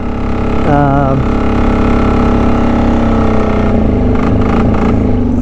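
A 1999 Polaris diesel 455 engine runs loud and close at a steady, clattering idle, its pitch rising and wavering briefly as the injection pump is turned up, then settling again.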